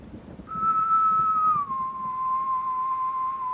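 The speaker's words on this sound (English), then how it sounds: "the whistle cut through the night air" A single eerie human-style whistle holds a long pure tone, then drops slightly in pitch and sustains, clear and alone over faint background hiss, set in a horror story.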